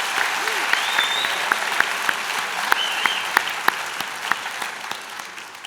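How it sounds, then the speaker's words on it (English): Graduates at a Mohawk College business, media and entertainment convocation ceremony applaud in a steady, dense wash of clapping with a few sharper claps standing out, the crowd filling the hall at an even level. "Give yourselves a round of applause."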